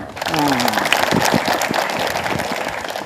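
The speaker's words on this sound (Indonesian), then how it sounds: "Masya Allah, tepuk tangan." People at an Islamic study gathering break into a full round of applause, dense clapping from a crowd rising quickly and holding steady, with voices briefly heard at the start.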